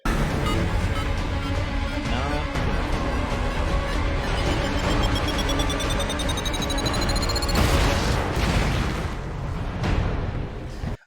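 An explosion scene from the TV series Superman & Lois, with dense rumbling booms and debris layered under dramatic score, loud and sustained before a sharp new burst near the end.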